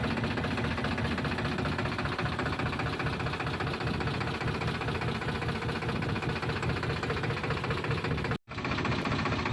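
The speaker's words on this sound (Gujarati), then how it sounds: "ચાલો મિત્રો ટ્રેક્ટર પાણીમાંથી ધીરે ધીરે આપણે બહાર કાઢી લઈએ" A tractor engine runs steadily and loudly with a low chugging rumble throughout, cutting out briefly near the end before resuming, while the tractor sits in water with its front tyre submerged.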